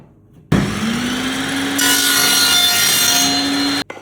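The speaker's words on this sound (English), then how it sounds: "We're going to set our saw up to 199 millimeters." A power saw cuts through plywood in one continuous loud pass, a harsh rasping whine that holds steady for about three seconds before stopping abruptly.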